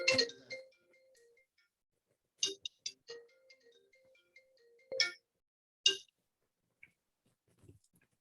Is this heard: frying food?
no